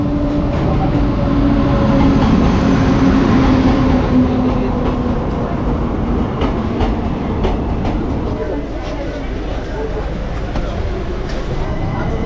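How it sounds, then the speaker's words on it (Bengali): A Kolkata–Lalgola Hazarduari Express pulls out of a station with a steady, loud rumble of wheels and carriages, rhythmic clatter over the rails, and a low tone fading early on. "1 মিনিট লেটে ট্রেন স্টেশন থেকে ডিপার্চার করছে"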